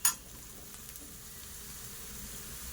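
Vegetables for veg manchurian frying in a pan, a steady soft sizzle after a brief sharp clatter at the start, close by with no voices.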